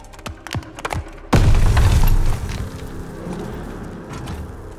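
Grenade explosion in the video game Call of Duty Vanguard, a single loud, sudden boom after a few light clicks, followed by a rumbling decay with scattered debris.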